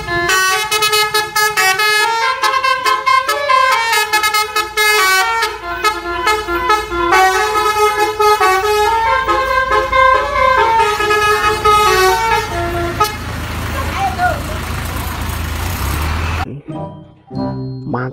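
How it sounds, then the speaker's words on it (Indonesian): A Kiki Trani Winspector bus sounds a loud, sustained multi-tone musical horn, its melodic honking running almost continuously before cutting off abruptly near the end, with low road rumble underneath. "kali ini ada bus Kiki Trani Winspector teman-teman"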